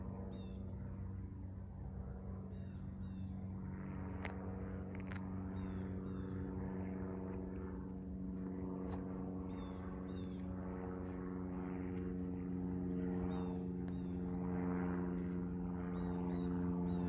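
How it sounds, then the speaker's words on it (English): A propeller airplane drones overhead in Essex, Massachusetts, at Conomo Point, a loud steady low hum with layered engine tones that holds for the whole stretch while faint chirps rise above it. "We have a plane going overhead."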